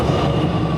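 A metro train pulls into a station in Qingdao, China, giving a loud, steady rumble of wheels and running gear close by, with no talking.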